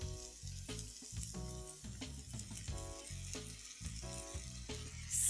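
Tomato puree goes into a pan of sizzling ginger, garlic and browned onions, a soft frying hiss running under steady tonal background music, fairly quiet, with no speech.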